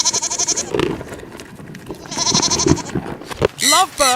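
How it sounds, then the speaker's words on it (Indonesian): Sheep bleating in a few short, wavering cries, close and clear, with a brief burst of other sound between calls. "Sheep, domba."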